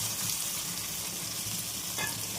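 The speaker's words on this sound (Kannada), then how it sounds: "ಸ್ವಲ್ಪ ಸಾಸಿವೆ ಹಾಕ್ತೀನಿ" Mustard seeds sizzle and crackle in hot oil as a tempering for a village-style country chicken dish, a steady close hiss with a brief sharper burst near the end.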